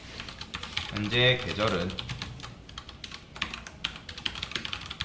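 Quick clicking keystrokes on a computer keyboard during a Python lesson, a steady run of light taps under someone speaking Korean.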